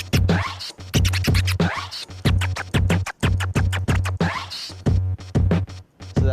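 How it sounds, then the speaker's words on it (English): A DJ scratches a record on a turntable, playing chirp and stab patterns in quick rhythmic bursts over a looping beat, loud and close with no talking. "So that's the parts 1 and 2 are chirps, and part 3 is stabs."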